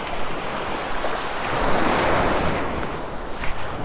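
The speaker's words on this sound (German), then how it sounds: "das Meeresrauschen" Continuous roar of sea surf washing onto a beach at Side in Turkey, loud and broad with swelling waves and some wind buffeting the microphone, no talking.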